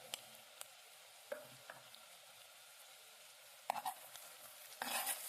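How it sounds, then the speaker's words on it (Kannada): Onions frying in oil for a brinjal curry with turmeric and chili powder, stirred by hand in the pan: a faint steady sizzle broken by a few sharp scrapes and clinks of the spoon. "ಚೆನ್ನಾಗಿ ಕೈ ಆಡಿಸಿ"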